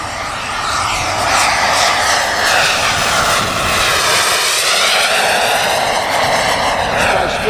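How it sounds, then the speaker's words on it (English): An RC turbine jet aircraft roars down the runway, a loud, close, continuous turbine whine with a sweeping pitch as it accelerates, filling the whole stretch. "as I'm coming down the runway, I'm accelerating, I'm gonna rotate the aircraft"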